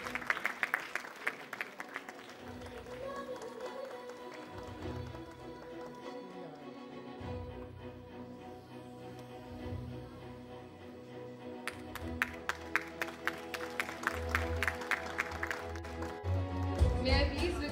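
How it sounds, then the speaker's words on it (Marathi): An audience at a launch event for Kon Honar Maharashtracha Ladka Kirtankar claps for Professor Sadanand More. The applause is moderately loud and grows stronger toward the end, mixed with background music and some talking. "जोरदार टाळ्या मोरे सरांसाठी."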